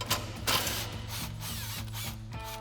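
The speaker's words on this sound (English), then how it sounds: "So we'll grab our 15 mil socket on our impact and go ahead and run that bolt out." Impact wrench spinning a 15 mm bolt out of a GMC Sierra 1500 exhaust hanger, a steady mechanical whirr with rapid rhythmic hammering pulses, close and continuous with brief changes in pitch.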